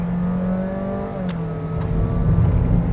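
A Honda City HB RS climbs Gunung Raya hill in the wet, its engine droning steadily with a rising tone as it accelerates, loud and close from inside the car, with a brief whine partway through.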